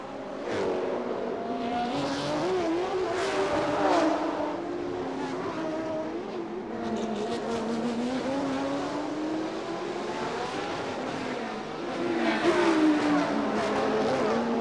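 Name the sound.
Ferrari race cars driving through street circuit corners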